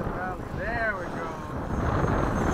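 A Freewing 90mm F-22 RC jet makes a fast pass from the right at an airfield, with a steady whooshing turbine roar and a brief rising whine under wind noise.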